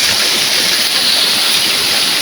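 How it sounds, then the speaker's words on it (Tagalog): Heavy rain pours steadily in a downpour during copra work, a loud, dense, unbroken hiss with no pauses and no talk. "Ayan, lakas pa rin ang ulan."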